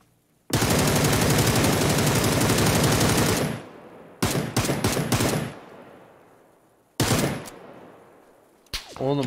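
Automatic gunfire in PUBG: a long, loud sustained burst of shots, then two shorter clusters of rapid fire separated by decaying echoes, with a brief final crack near the end.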